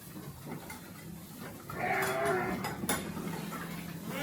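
Batur sheep on a farm calling out, a single louder bleat in the middle over a steady low background of livestock noise.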